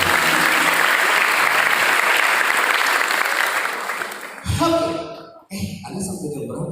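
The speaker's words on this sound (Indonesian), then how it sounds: "Tepuk tangan untuk kita semuanya." Audience applause at a motivational seminar for final-year students at a boarding school in Tangerang fills the room loudly for several seconds, then fades out as a voice begins speaking over a quieter hall.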